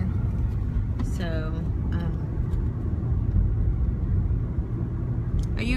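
Steady low rumble of a car's engine and road noise heard from inside while driving, continuous throughout, with people talking over it.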